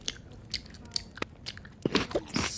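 A person chews food loudly at a Thanksgiving family meal. Close, wet crunches and bites come in an irregular rhythm, with brief background noise and no clear talking.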